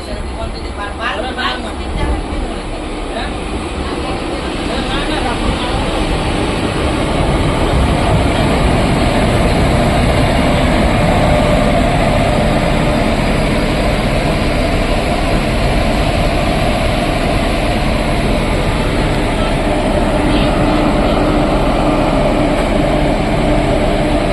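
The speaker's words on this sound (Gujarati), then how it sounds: "મિત્રો સામેથી ટ્રેન આવી રહી છે તે પોરબંદર જઈ રહી છે" A train from Bhavnagar to Porbandar rumbles past close by, its heavy, continuous roar swelling after a few seconds and holding loud and steady to the end.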